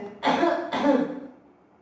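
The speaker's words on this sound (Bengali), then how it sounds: "এই আরো জোরে কাশি দে" Two forceful, hacking coughs from a man come one after another at close range, loud and rough, trailing off into quiet afterward.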